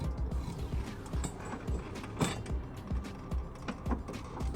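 Wrench turning to loosen the bolt on a lawnmower blade wedged with a block of wood, a series of close mechanical clicks and creaks with a ratcheting feel, steady and moderately loud throughout.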